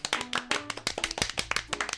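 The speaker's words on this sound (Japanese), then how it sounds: "拍手が鳴り止まない" Quick, sharp hand clapping in a small room, a few close pairs of hands striking in a busy uneven rhythm, loud and dry, with no voices over it.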